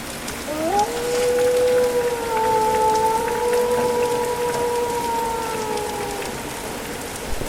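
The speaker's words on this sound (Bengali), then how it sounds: "এদিকে বৃষ্টি শুরু হলো।" Rain falling in a village horror cartoon, a steady, moderately loud hiss of drops, with a long rising then sustained howl, like a jackal calling, laid over it for several seconds.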